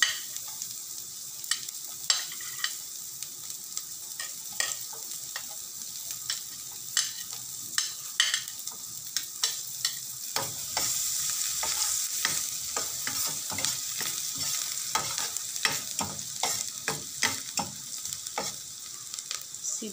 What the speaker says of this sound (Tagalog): Ating bawang.